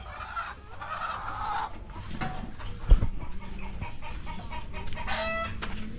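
Chickens in a battery cage clucking and squawking continuously, several birds at once, near and fairly loud, with a brief sharp clatter partway through and no talking.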